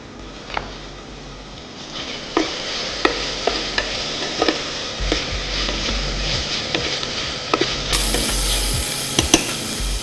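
Slit green chilies frying in a pan of oil for Hyderabadi biryani, a steady close sizzle broken by repeated scraping clicks of a spatula stirring against the pan, with no talking.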